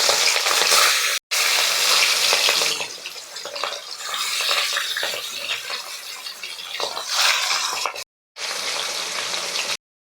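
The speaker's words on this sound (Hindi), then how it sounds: "ये हमारा तेल गरम हो चुका है। अब इसको हम एक एक करके डाल देते हैं।" Fish pieces dropped into hot oil one at a time for a new-style fish recipe, sizzling loudly and steadily up close as a bright crackling hiss, cut by two brief moments of silence.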